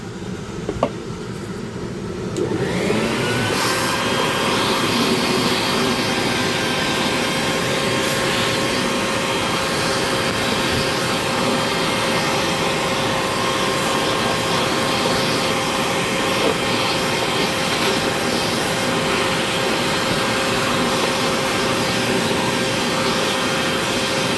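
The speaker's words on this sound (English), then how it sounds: "Get my handy dandy vacuum, get all this dust out of the way." A vacuum cleaner switches on after a few seconds and runs loud and steady, sucking up dust from a Dremel wood carving, a continuous close whine and roar with no talk over it.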